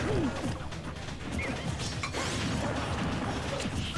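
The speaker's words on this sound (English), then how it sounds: "Force smashing his teammate." A forward smash lands in a Super Smash Bros 3v3 tournament match: a sharp crashing hit amid busy game effects, with quick whooshes and clatter over a constant noisy backdrop.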